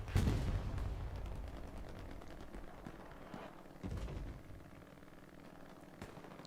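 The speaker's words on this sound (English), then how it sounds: "As artillery is shooting down some smoke shells" Artillery in Hell Let Loose firing smoke shells, heard as several dull booms and rumbling bursts spread over a few seconds. They sound distant and fairly faint under continuous battlefield noise.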